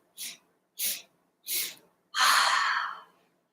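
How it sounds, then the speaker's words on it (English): Three quick sharp inhales in a row, then a long forceful exhale, close and alone with no talking; a breath of joy breathing exercise. "We're gonna do a bit of breath work here called breath of joy."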